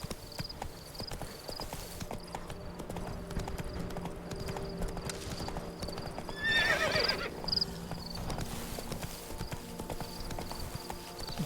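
Roach, the horse in The Witcher 3, gallops with steady rhythmic hoofbeats throughout, and a whinny rises briefly partway through over faint game ambience.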